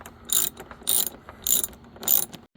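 Ratchet working a Torx T20 screw out of a Ford Fusion door panel, four evenly spaced bursts of crisp clicking, close up in an otherwise quiet space.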